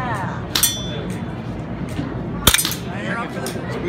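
Two sharp AR-15 rifle reports at an outdoor shooting range, spaced about two seconds apart, over a constant bed of crowd and range noise with voices in the background.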